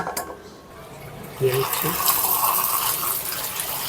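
Raw pumpkin pieces being washed under running water, a tap gushing and splashing over the pieces at close range after a brief, quieter clatter at the start.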